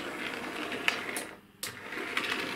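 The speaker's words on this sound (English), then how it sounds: "here without a brake, you're seeing it running down different types of track" A Class 56XX model tank engine runs along model railway track with no brake, making a steady, fairly faint mechanical whir with a few light clicks and a brief dip midway.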